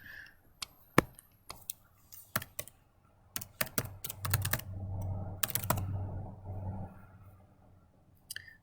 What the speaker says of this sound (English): Let's just type it then, I guess.